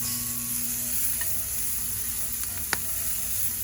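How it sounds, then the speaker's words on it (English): Garlic, onion, green onion, cabbage and a little kale sizzle steadily in a pan while being sautéed and stirred, with an even crackle and a single sharp clink near the end, without voices. "garlic, onion, green onion, cabbage. A little bit of kale got in there by mistake, but we're going to saute that until it gets soft."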